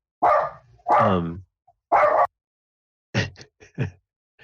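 A dog barks in the background: three fuller barks spaced apart, followed by a few shorter, sharper yips, each separated by silence and with no talk over them.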